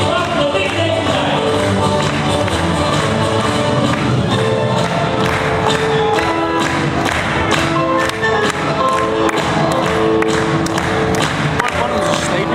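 A hypnotist show audience claps along to loud music, a steady run of rhythmic hand claps mixed with the band while a voice talks over them.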